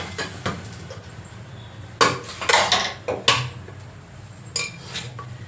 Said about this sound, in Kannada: ನಾನು ಕುಕ್ಕರ್ ಇಟ್ಟಿದ್ದೀನಿ